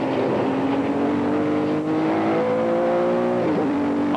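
A 1992 SCCA Trans Am race car laps Mosport, its engine roaring loud and close with a steady high drone, shifting and climbing in pitch before a quick lift near the end.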